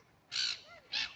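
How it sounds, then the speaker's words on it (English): A crow beside a park lake gives two loud, harsh caws in quick succession, close by. "This bird is really, really tame"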